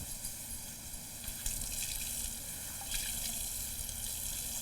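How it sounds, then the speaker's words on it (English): A small splash of water poured onto a hot griddle while chicken smash sliders cook, producing a steady, faint rushing gush with a brief flare of hiss midway. "Just a little bit of water,"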